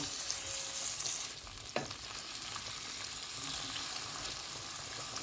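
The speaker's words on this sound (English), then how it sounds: "So you just cover this and just keep stir frying it." Pepper steak sizzles steadily as it is stir-fried in a hot pan, with occasional scraping and stirring clatter.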